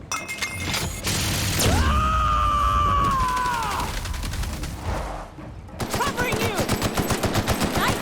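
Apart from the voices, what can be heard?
gunfire in the video game The Outer Worlds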